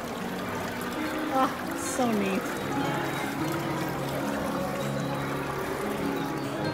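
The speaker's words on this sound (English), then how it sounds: "Look at the waterfall." A waterfall at Walt Disney World's Polynesian Village Resort gives a steady, close rush of splashing water, with people talking over it throughout.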